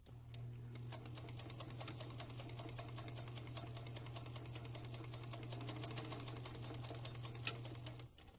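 Sewing machine stitching a fabric face mask for musicians, one continuous rapid run of needle ticks over a low motor hum that stops near the end, close but quiet.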